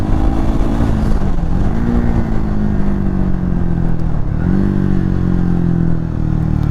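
A Triumph Speed 400 motorcycle ridden through city streets, its engine droning steadily up close with rising and falling pitch as the rider shifts and accelerates, wind and road noise layered over it, no talk.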